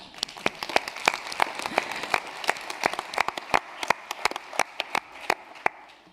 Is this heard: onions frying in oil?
no